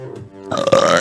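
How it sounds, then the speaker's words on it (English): A loud, drawn-out burp from a woman, rising after a brief quieter lead-in and holding a rough, tonal croak for about half a second before cutting off. "It was coming, the burp was coming, then it disappeared."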